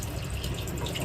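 A tap left running in an Indian Railways express train coach gives a steady, close rush of water, continuous and fairly loud.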